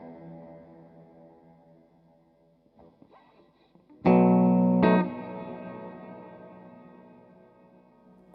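Guitar notes run through a Cuvave reverb pedal set to hall mode with high decay and low mix: a soft phrase, then a loud struck chord at mid-clip whose sound lingers in a long, fading tail.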